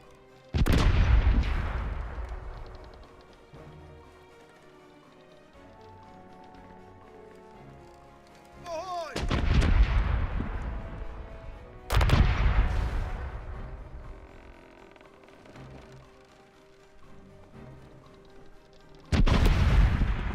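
Ship cannons boom in the pirate naval game Corsairs Legacy, with four loud broadside volleys spread apart, each a heavy blast with a rumbling tail, and quieter battle ambience between them.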